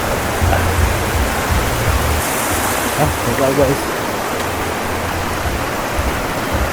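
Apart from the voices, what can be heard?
man-made running water stream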